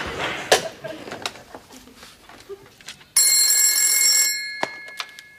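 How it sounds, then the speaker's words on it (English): A telephone bell rings loudly and steadily in an Australian department store, a sustained bright electric trill that starts abruptly after a stretch of quiet background activity and cuts off, with a brief knock following. "Telephone call for Captain Wagstaff"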